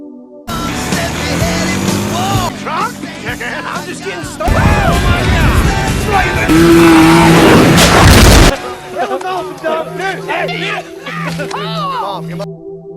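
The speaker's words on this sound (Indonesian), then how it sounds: "Dong yang mengendarai kendaraan off-road ATV melakukan aksi berisiko dengan melompati" An off-road ATV engine revs and roars over crowd noise as it jumps over a burning car, with a rising rush and a sudden cut, then muffled chatter and engine hum continue.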